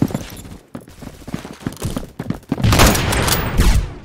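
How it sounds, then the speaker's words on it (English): Shotgun blasts and rapid gunfire in Roblox Phantom Forces, a scatter of sharp shots early on giving way to a louder, sustained volley near the end. "Oh, this guy have shotgun."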